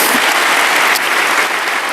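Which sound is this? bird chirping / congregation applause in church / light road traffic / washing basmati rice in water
congregation applause in church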